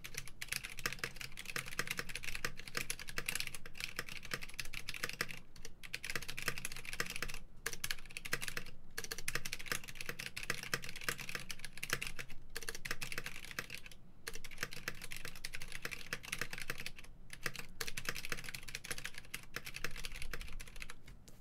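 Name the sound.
typing on a Top Clack mechanical keyboard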